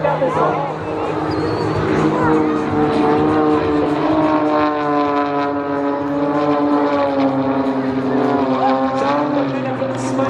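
Aerobatic airplanes perform at an air show, their steady engine drone filling the air loudly and continuously with slight pitch shifts as they manoeuvre, while crowd murmur and a commentator's voice sit underneath.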